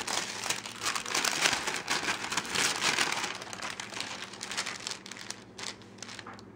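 Paper handled and crinkled over ironed craft beads, a continuous close crackling rustle that swells and then gradually thins out, with no talking.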